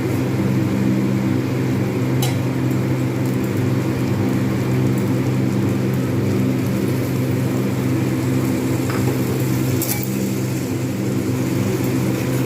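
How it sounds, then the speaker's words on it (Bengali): Water trickles and patters steadily into a pan of prawn, potato and pointed gourd curry, a continuous close hiss poured slowly and evenly without pause. "এবার আমি পরিমাণ মতো জল ঢেলে দেবো আস্তে আস্তে করে।"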